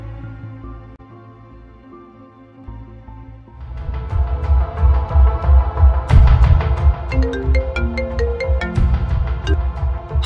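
A phone ringtone plays as a melodic electronic tune, softer at first and then louder and fuller with a rhythmic beat, no talk over it.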